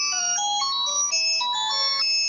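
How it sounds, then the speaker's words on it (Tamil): A default ringtone plays on a Nokia 130 Music Edition keypad phone: a bright, simple electronic melody of stepped tones, steady and fairly loud with no talking over it. "இதில் டிஃபால்ட் செட்டிங்ஸில் ஒரு 5-6 ரிங்டோன்ஸ் டிஃபால்ட்டாக கொடுத்துருக்காங்க"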